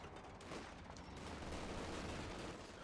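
Dense, continuous rattle of gunfire and explosions fill a Company of Heroes 2 World Championship match as units fire through bushes, a steady roar of overlapping shots without a clear break.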